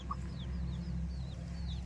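Hens cluck softly on a family farm, with short repeated calls at low level over a steady background hum.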